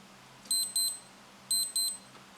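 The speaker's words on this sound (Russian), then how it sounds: "вот так вот у нас звучит будильник" Alarm of a LIGE quartz wristwatch with backlit dial: a thin, high electronic beeping in two pairs of rapid chirps, close and clear over a quiet background, with no talking.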